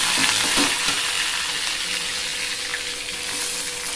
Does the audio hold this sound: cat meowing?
no